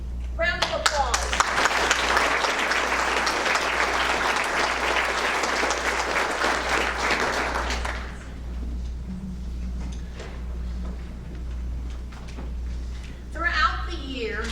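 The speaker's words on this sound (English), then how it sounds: "Round of applause." A school spring band concert audience applauds in a dense, steady burst for about eight seconds, then the clapping thins out and fades to scattered claps and quiet room murmur.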